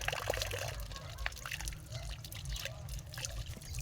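Steady water trickling and splashing continuously into a tilapia fingerling tank, fairly close, with faint scattered sounds over a low rumble.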